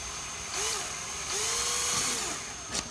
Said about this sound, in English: I'm just going to drill a little bitty hole at an angle